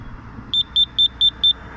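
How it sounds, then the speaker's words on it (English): A dual gate opener gives five short, evenly spaced electronic beeps at a steady rhythm, high-pitched and clear over a low background hum. "I'm going to turn off that beeping sound."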